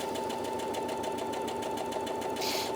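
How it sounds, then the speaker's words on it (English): A Brother Innov-is NV2700 sewing and embroidery machine runs continuously, stitching on the spot with a steady, fast mechanical hum and a rapid repetitive needle clatter, close and even throughout. "keep my finger on it, and it's just sewing on the spot"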